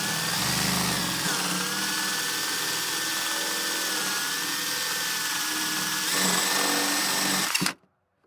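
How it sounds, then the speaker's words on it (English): A power drill whines steadily for several seconds at close range while drilling a hole in wood, its pitch wavering slightly under load, then cuts off abruptly into silence. "You just drill a hole, it's super easy,"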